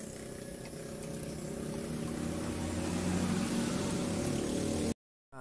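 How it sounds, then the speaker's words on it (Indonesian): Water flushing out of a Suzuki Feroza radiator drains in a steady, close, rushing gurgle that builds slightly, then cuts out briefly near the end. "air pembuangan dari kegiatan flushing atau pembersihan pengurasan radiator. Tunggu sampai airnya betul-betul habis."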